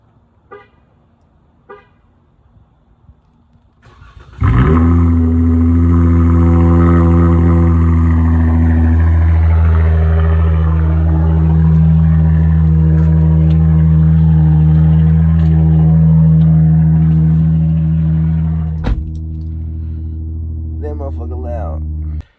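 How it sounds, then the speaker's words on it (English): A 2022 Chrysler 300 cold-starting: after a few quiet clicks the engine fires abruptly into a loud, deep, steady rumble with a strong low hum, holds for about fourteen seconds, then drops to a slightly lower idle. "I want to give y'all a little cold start real quick."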